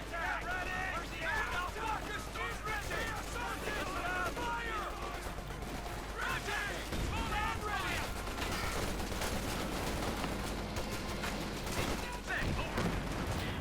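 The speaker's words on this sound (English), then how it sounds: "Pershing firing away. MG-34 setting up there." Battle sounds from Company of Heroes 2, with a Pershing tank and an MG-34 machine gun firing amid continuous overlapping gunfire and explosions at a steady mid level, with a commentator talking over the action.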